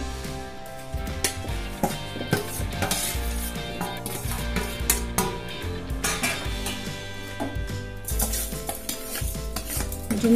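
Ground dry fruits and edible gum go into a kadhai and are stirred, giving repeated scraping and clinking of a metal spoon against the pan over a low sizzle, close and busy with no talking.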